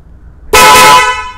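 A single loud, close motorcycle horn blast from a Yamaha R15 sounds abruptly after a quiet moment, holding a bright buzzy tone for about half a second before cutting off.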